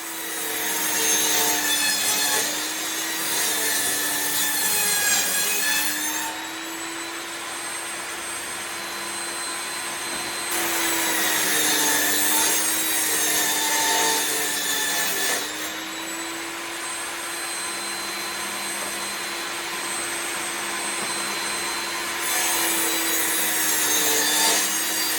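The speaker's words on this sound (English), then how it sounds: "what I'm doing is slowly hogging away at that wood, just to be able to make those strips for the inserts for the top of the table to go into" A saw cuts scrap pallet wood into strips for coffee table inserts: a loud, steady rasping drone with a tonal whine that swells in two long surges.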